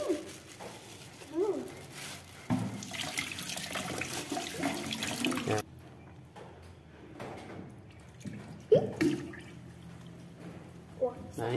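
A kitchen tap runs in bursts while ingredients, including tuna, are rinsed at a sink, with splashing, clatter and a few brief voices mixed in.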